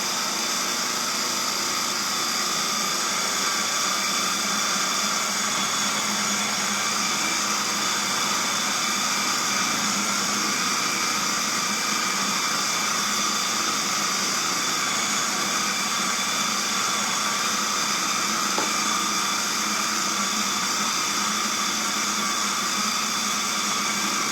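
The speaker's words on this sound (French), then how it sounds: "Je l'aime beaucoup, ce robot culinaire-là" A kitchen food processor runs steadily with a constant whirring motor whine, loud and uninterrupted for the whole stretch.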